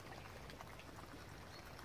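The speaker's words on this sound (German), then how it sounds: "Jetzt kommt hier Wasser rein." Water pours steadily into an MRE flameless ration heater pouch, a continuous close splashing hiss with no pauses.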